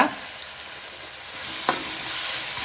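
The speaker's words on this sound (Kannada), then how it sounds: "ಟೊಮೆಟೊ ಪಾಡ್ದು ಫ್ರೈ ಮಾಡ್ತದ" Tomato frying with ginger garlic paste in a pan for crab sukka, a steady close sizzle with a brief stirring scrape partway through.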